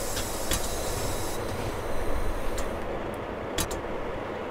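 A passing freight train in the Pro Train Perfect 2 simulator on the Eifel line, heard from a BR 628 railcar: steady rumble and clatter of wagons rolling by close, with brief bright squeals and clicks, no talk.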